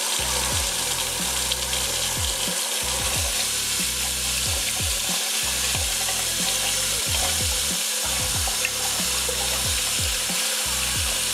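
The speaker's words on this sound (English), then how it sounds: "So now it's time to wash off the disc" Running tap water pours steadily over a dyed disc being rinsed clean, a continuous close splashing wash that stays even from start to finish, with regular low thumping pulses underneath and no voices.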